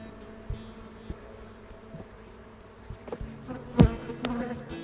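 Honeybees buzz close by around an open hive being split into a new colony, a steady drone with louder passes as individual bees fly near, plus a few soft knocks.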